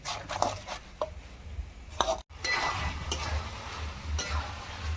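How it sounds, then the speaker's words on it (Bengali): Spoon scraping and clinking in a pot while Bihari chicken is stirred and braised with a little water, several irregular metallic clinks and soft scrapes over a low cooking hiss, close and moderately quiet. "মাংসটাকে এবার একটু একটু করে জল দিয়ে ভালোভাবে কষিয়ে নেবো।"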